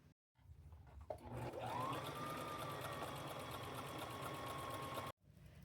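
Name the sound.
sewing machine sewing strap down the side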